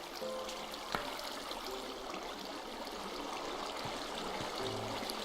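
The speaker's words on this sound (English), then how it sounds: "So the water's harvested everything there and thrown it down to one spot." Water flowing over an automatic wheat, potato and carrot farm in Minecraft, a steady, continuous rushing trickle at moderate level with faint clicks.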